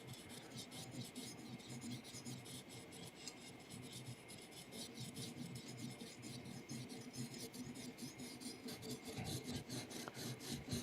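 A knife blade is drawn repeatedly across a sharpening stone to raise a burr, a steady close rasping scrape in rhythmic strokes, fairly quiet and unbroken by talk.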